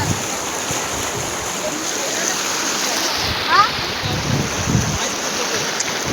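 Water of the Ulhas river rushes and gushes in a steady broadband wash, loud and continuous with faint wind noise, while a voice speaks briefly over it.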